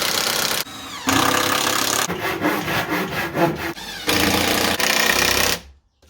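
Power driver sinking screws into wooden fence post supports in a blacksmithing shop build, several loud whirring bursts separated by short pauses, one stuttering run in the middle, ending in quiet.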